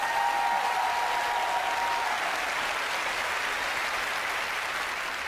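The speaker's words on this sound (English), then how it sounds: "Will you give Yvette, Carl, David and Kieran a round of applause?" Studio audience applause on a live paranormal television show, a broad even wash of clapping that holds steady from start to finish, with no voices over it.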